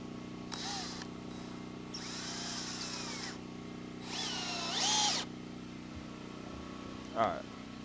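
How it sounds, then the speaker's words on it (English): A power drill pre-drilling a wooden board for a chicken coop roof, whirring in three short bursts of a second or so each over a steady low background hum, with a sharp knock near the end. "I'm going to pre-drill it now that I know"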